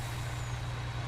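Air brakes on a truck in the video game Farming Simulator 19, a steady low hiss and rumble over the engine drone throughout the short stretch.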